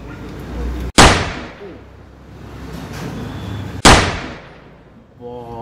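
Two sharp bangs from a toy matchstick cap gun about three seconds apart, each snapping loudly then trailing off, over low background noise.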